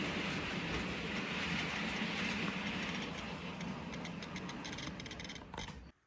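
A train in a railway video game rolls into a station with a steady, dense rumble and rattle that fades slightly toward the end before cutting off.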